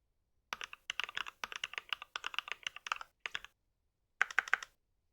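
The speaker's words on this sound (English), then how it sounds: "virtual mechanical keyboard sound emulator" Clicky keystrokes from a virtual mechanical keyboard sound emulator as someone types on a computer, a quick irregular run of crisp taps in bursts, with a short pause before a final flurry, alone without talk.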